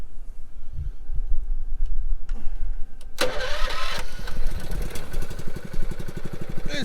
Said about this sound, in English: This is a cold-natured engine.